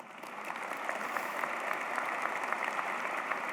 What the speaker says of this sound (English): Take a second to give yourselves a round of applause.